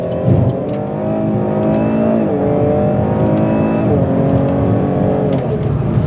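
A Holden Commodore V6 engine accelerates hard from inside the cabin, revs climbing then dropping at each gear shift, a loud continuous drone with several upshifts.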